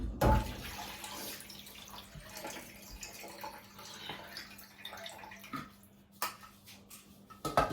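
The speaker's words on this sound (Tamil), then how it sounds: "இப்போ நான் இதை மிக்சிக்குள்ளே கொட்ட போகிறேன்" Boiled carrots tumble from a pot into a mixer jar in a home kitchen, a wet sloshing pour with a few scraping clinks of metal, moderately close and without talk.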